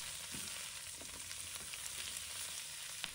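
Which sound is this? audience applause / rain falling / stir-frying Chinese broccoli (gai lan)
stir-frying Chinese broccoli (gai lan)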